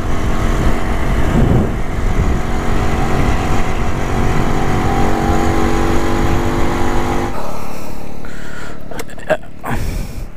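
A Rajdoot 175 two-stroke motorcycle engine drones loudly and steadily at speed close by, straining, with a strained hum that drops away near the end.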